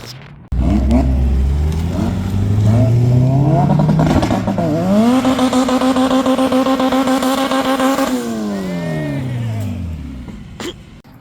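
A supercharged 6.2-liter Chevrolet Corvette Z06 at a car show, loud and close, revving in rising pulls that climb to a sustained high-pitched roar, hold there, then fall back toward idle.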